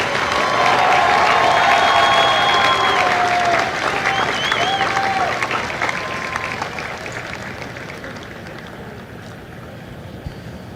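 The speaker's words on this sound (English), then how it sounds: "please join me in a round of applause for the company staff of Company M" Sustained applause from a large crowd at a Marine Corps recruit graduation ceremony in San Diego, loud and dense at first and slowly thinning out over about ten seconds.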